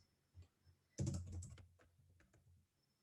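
Keys clatter on a computer keyboard in a quick, uneven flurry of soft taps close by, then trail off into scattered strokes in a quiet room.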